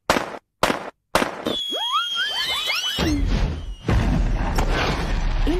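Firework effects in a Persil Small and Mighty detergent advert: a few sharp bursts, then a run of rising whistling whooshes and squeals, followed by booming, crackling explosions that end close and loud.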